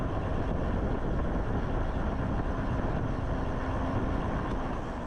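A Hiboy EX6 fat tire electric bike in motion gives a steady low rumble of tires and wind, close and constant with no speech.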